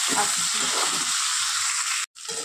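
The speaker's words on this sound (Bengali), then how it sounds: "আলুটা দিয়ে দিয়েছি, একটু নাড়াচাড়া করে নেব। একটু আলুটা ভাজা ভাজা হয়ে যায়।" Potatoes fry and get stirred in a pan of hot oil for Kashmiri aloo dum, a steady close sizzle with soft scraping beneath, cut off briefly near the end.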